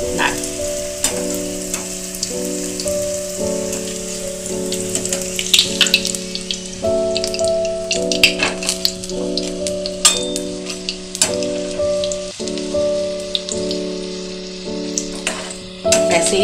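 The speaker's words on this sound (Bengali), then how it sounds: "কচুরিগুলোকে আমি ভেজে নেব।" Cucumber kachori deep-frying over a medium flame, a steady close sizzle and bubbling of hot oil, with light ticks and clicks scattered throughout and a constant tonal hum beneath.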